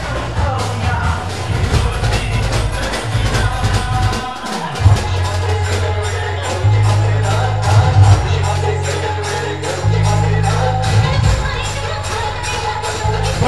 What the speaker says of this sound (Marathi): प्रचंड गर्दी आहे.